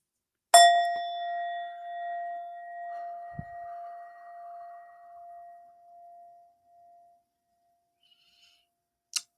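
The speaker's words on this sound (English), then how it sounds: "the sound instruments that I use are this metal bowl that I love so much, Indian metal bowl" An Indian metal singing bowl struck once, ringing out with a long, pure sustained tone that slowly fades over several seconds, with a faint bright clink near the end.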